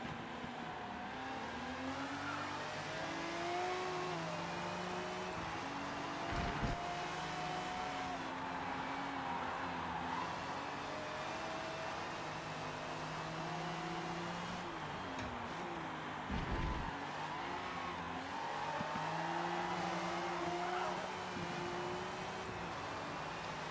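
Race cars in Forza Motorsport at Hockenheim, including a Subaru BRZ, engines droning and revving steadily with rising and falling pitch as gears shift, a continuous close engine note throughout.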